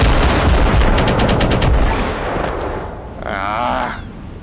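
Rapid bursts of muted gunfire in the video game Firewall Zero Hour crackle over a dense, noisy background, the shots fading into rumbling din with a wavering electronic tone near the end.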